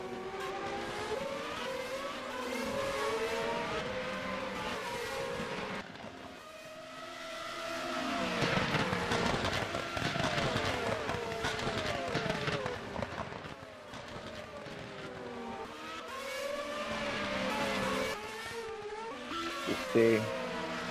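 Several race cars battle wheel to wheel in a sim racing game on a German circuit, engines rising and falling in overlapping whines through gear changes, loud and continuous, with faint tire noise.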